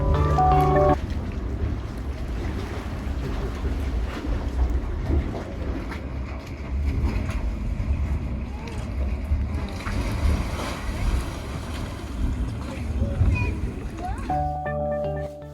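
Roaring, rushing water churns steadily at Yellowstone National Park, a broad low-heavy rumble with splashing texture that fills most of the span, with brief other sounds at the very start and end.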